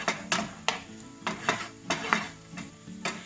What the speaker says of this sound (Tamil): நம்ம நல்லா டார்க் ப்ரௌன் ஆகிற வரைக்கும் நல்லா வறுத்துருவோம் இதை பூண்டை